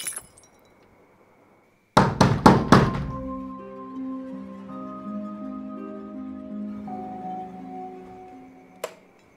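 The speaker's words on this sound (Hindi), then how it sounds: "अरे कौन गेट खटखटा रहा हो" Several quick, heavy knocks strike a main gate in close succession, each one ringing out and fading before a lingering metallic hum and one last sharp tap; no voices.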